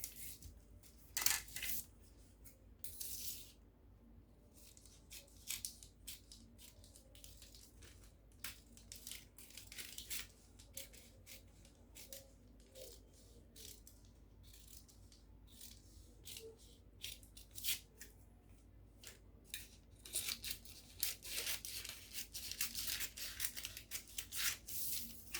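Scissors cutting through ankara print fabric at close range, with repeated crisp snips in uneven runs, louder bursts near the start and end, and no talk.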